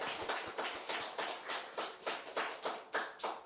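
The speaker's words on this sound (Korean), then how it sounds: "하나님께 영광의 박수 치실 때는 크게 치시면 돼요" A church congregation claps in a loud, steady rhythm, about two claps per second, the sharp hand claps filling the room with no voices over them.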